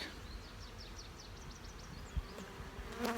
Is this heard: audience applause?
no